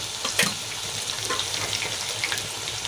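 Okra sizzles as it deep-fries in a generous amount of hot oil, making a steady crackling hiss with scattered louder pops, close and continuous, with no voices.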